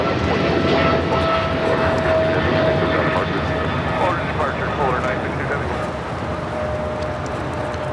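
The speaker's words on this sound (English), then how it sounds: "This is DHL operated by Polar Air Cargo Flight 962 taking off to Cincinnati on a 777 freighter" A DHL Boeing 777 freighter operated by Polar Air Cargo takes off from Los Angeles LAX, its jet engines giving a loud, steady, broad roar with a faint whining tone that holds throughout.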